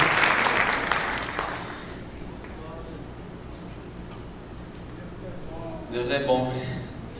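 Audience clapping during a church service, a dense burst of applause at the start that fades over a couple of seconds, followed by a preacher's voice speaking over a low hum.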